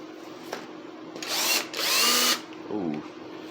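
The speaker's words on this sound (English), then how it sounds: "we can go ahead and screw the bridge down now. Attach it. I wonder if I got enough juice in my drills to help me out here" A cordless drill screws down the bridge of a kit guitar in two loud whirring bursts, the second longer and rising in pitch, with soft handling noises around it and a low voice at the end.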